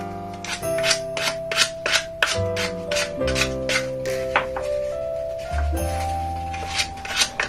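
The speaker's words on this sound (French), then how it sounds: "je finis de poncer ça" A wooden broom handle is sanded by hand: a steady series of rhythmic rasping strokes, close and fairly loud, with no talking.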